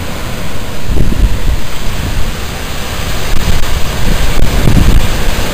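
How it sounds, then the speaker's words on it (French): During a summer-evening thunderstorm, powerful wind gusts roar loudly and continuously, with heavy buffeting surges against the microphone. "les rafales sont puissantes là"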